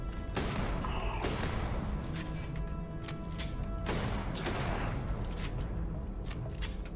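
Shotgun blasts in the video game Starfield, several sharp broadband reports roughly a second apart, loud and close over a constant dense game background.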